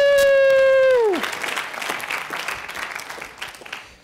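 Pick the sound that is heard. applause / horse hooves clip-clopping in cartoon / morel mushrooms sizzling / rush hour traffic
applause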